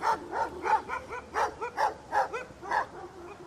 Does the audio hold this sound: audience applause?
no